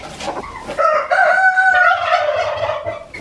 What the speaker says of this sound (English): Let's see some chickens or something.